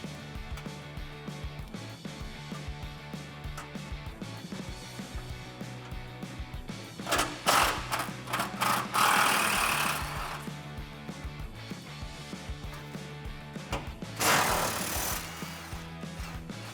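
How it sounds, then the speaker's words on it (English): 10mm exhaust hanger bolts coming off the frame rail of a 2015-2021 Ford F-150 5.0L pickup, with two loud whirring bursts from a power tool standing out over steady background hum. "I'm just gonna go ahead and unbolt the 2 10mm bolts securing the hanger to the frame rail."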